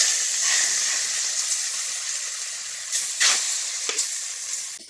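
Dosa batter sizzles in a pan with a bright, continuous hiss that slowly fades. A few short splutters and scrapes break through near the end.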